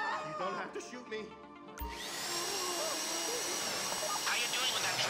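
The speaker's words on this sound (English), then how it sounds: "How you doing with that drill?" A power drill cuts into a bank vault box during a GTA 5 heist. After a brief pause it sets in as a loud, steady whirring grind and runs on, with faint voices behind it.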